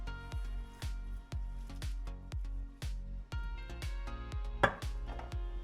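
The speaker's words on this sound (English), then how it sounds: "Cut the Chinese cabbage in half and chop it finely" A knife chops Chinese cabbage finely on a board, with steady close thuds about every half second and a crisp crunch on each cut, one stroke landing harder than the rest.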